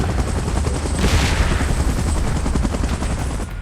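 A helicopter in the PUBG video game gives a loud, dense, rapidly pulsing rotor thrum up close, steady throughout with a brief surge midway.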